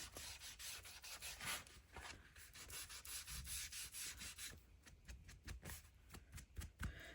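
Edges and folds of a handmade paper folio are roughed up and distressed, giving a continuous close scraping and rubbing texture that turns into brisk, rhythmic strokes toward the end.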